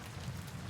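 Steady rain falls on a surface as a soft, continuous wash of patter with no distinct drops standing out, even and moderately quiet throughout.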